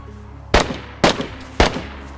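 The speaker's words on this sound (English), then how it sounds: "Shooting at me." Three sharp gunshots fired at roughly half-second intervals in DayZ, loud and close with a short echoing tail after each, no talking.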